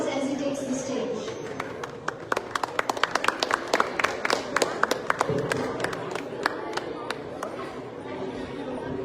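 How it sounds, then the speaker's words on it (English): An audience at a Dhamma Chakra Pravartan Din stage event claps in a rising burst of applause that peaks mid-clip and then tapers off, with crowd chatter and voices mixed throughout. "Let's give Tanom a big round of applause as he takes the stage."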